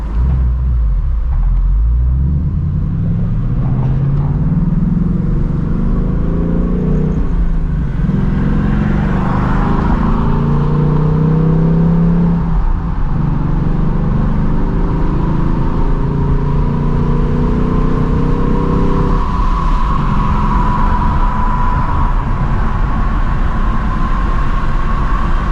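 A 2024 Mustang GT with an off-road H-pipe rumbles loud and close throughout, its deep exhaust swelling and easing as it revs and idles at a long traffic light late at night.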